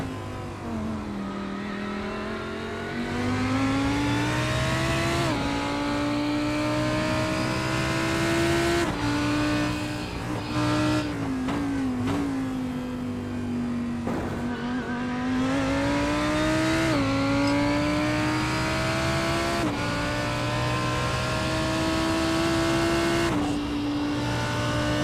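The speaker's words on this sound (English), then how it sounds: "From the GT3s, the Lamborghini is my favorite car. Just, I love the way the engine sounds." Lamborghini GT3 race car's V10 engine at Sebring, heard onboard as a loud, continuous howl that rises and falls through repeated upshifts and throttle lifts, with brief downshift blips around the middle, no talking.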